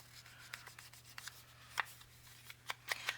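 Ink is rubbed along the edges of a paper tag in soft, scratchy strokes, several brief rasps in an irregular rhythm, quiet and close with no voices.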